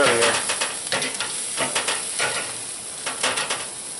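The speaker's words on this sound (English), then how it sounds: "So I done seared the rib tips now, you know, with that dry rub on them" Rib tips coated in dry rub searing on a barbecue grill, a steady close sizzle with bursts of crackling and spitting fat, no talk.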